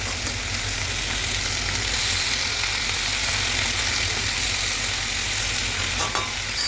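Kolmi greens (water spinach) fry in a covered pan, giving a loud, continuous, even sizzle close by, with no one speaking.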